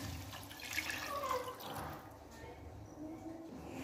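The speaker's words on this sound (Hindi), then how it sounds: "तो अब इसमें तीन ग्लास के लगभग पानी ऐड करना है।" Water is poured into a pan while cooking Maggi masala noodles, a short gurgling splash that swells then tapers off, with faint talking underneath.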